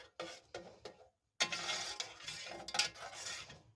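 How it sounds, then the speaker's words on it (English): Homemade ketchup in a big pot stirred with a spoon, close scraping and clinking strokes against the metal, a few short taps, a brief pause, then continuous stirring. "get a spoon to kind of stir this around"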